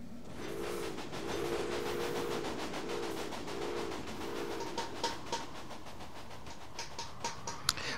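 Trains in the game Railway Empire rumble steadily, with a wavering horn-like tone repeating several times early on, then light clicks and clacks of wheels over the track toward the end.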